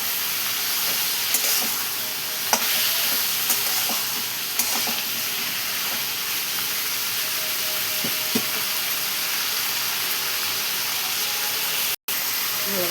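Raw tomatoes and onions sizzle steadily in a pan for tomato chutney, with a constant frying hiss and occasional scraping knocks of a stirring spoon, close and fairly loud.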